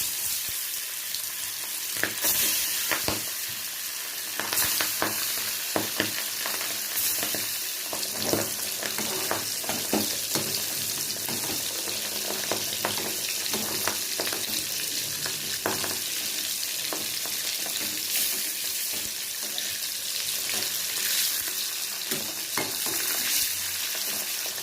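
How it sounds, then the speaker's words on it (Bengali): Small pieces of boal fish fry in hot oil in a pan, sizzling and crackling loudly and continuously, with frequent sharp pops and spits throughout. "তেলটা গরম হয়ে গেছে, আমি মাছগুলো দিয়ে দিচ্ছি।"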